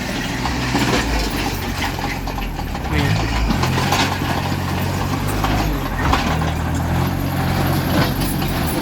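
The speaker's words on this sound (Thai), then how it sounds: "รถไถก็จะมาเคลียร์ เคลียร์ ก้อนหิน ออกมาไว้ตรงนี้นะนี่" Tractor pushing and clearing rocks and concrete debris on a work site, a steady loud diesel rumble with clanking and scraping metal throughout, no clear talk.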